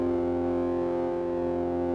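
A sustained, buzzing distortion effect drones evenly, a thick gritty effect smearing a looping glockenspiel melody with no voices.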